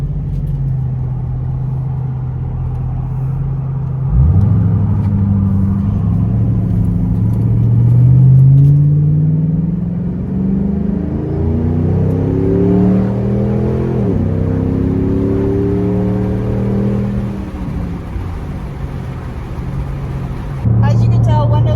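A car fitted with a Roush Extreme axle-back exhaust idles with a deep rumble, then accelerates through several rising revs and gear shifts, loud and close, heard from inside with the windows down.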